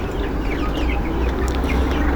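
A flock of farm chickens clucks and chatters continuously, with overlapping calls at close range over a steady background hum and no talking.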